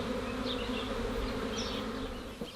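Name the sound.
honey bees returning to hive after swarm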